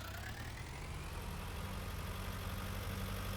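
A combine harvester engine idling in Farming Simulator, a steady, even low drone with a continuous hum that holds constant throughout, fairly quiet with no voices.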